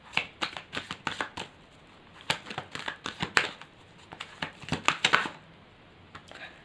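Tarot cards are shuffled and drawn by hand for a Gemini career reading: a steady run of quick, crisp riffling and slapping bursts, close and fairly quiet, with no talking.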